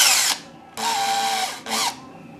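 A power drill whirs in three short bursts, the motor spinning up and winding down between each, close and loud with no talking.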